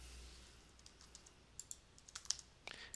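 Computer keyboard typing while entering a reason into billing software, a quiet scatter of light key clicks that gets busier toward the end, with no talking.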